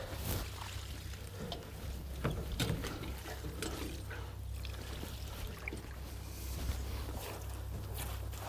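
Water poured from a hose or container onto the base of a newly planted persimmon tree, a steady splashing trickle running close by for several seconds with a low background hum, no talking.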